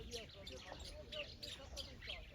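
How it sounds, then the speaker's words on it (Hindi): Several birds chirp and tweet in quick, repeated bursts over a constant outdoor background hiss on the bank of the Narmada river. "चहचहाहट पक्षियों की सुनाई दे रही है।"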